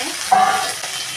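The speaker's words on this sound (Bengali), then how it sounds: "সোনালি কালার করে ভেজে নিচ্ছি কচুর মুখিগুলো দিয়ে" Taro corms frying in a pan with onion and garlic, a steady close sizzle and hiss with a brief louder crackle as the pieces are moved.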